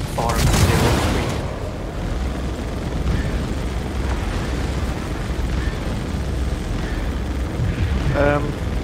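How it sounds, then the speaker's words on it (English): Torpedoes explode in the space game Star Citizen, with a loud rumbling boom at the start fading into a sustained low roar and scattered distant crackles; a voice talks partway through. "I think my torpedoes are blowing up"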